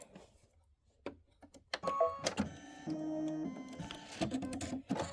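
An embroidery machine stitches a placement line for a quilt block. After a near-silent start with a few faint clicks, a steady mechanical whir sets in, with stepping motor tones and rapid needle clatter continuing close and moderately loud.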